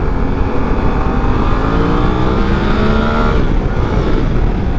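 A Suzuki V-Strom 800 DE adventure motorcycle pulls hard in third gear, its engine note climbing steadily under heavy acceleration, loud and close, with strong wind rush and no talking.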